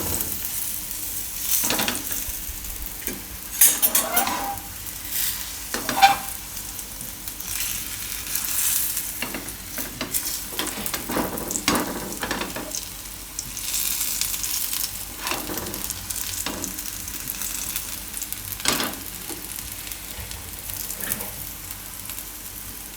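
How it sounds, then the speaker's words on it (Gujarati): Raja Rani paratha frying in oil on a pan, a continuous sizzle with louder crackling bursts and occasional scraping as the bread is moved, close and without talk. "કોરે કોરું નહીં શેકવાનું, તેલમાં જ શેકવાનું."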